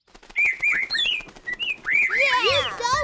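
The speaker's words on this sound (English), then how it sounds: "I'm glad we managed to help the greater green leaf bird sing" A female greater green leafbird sings a lively run of bright whistles, chirps and sliding notes that grow denser and more tangled toward the end, loud and close.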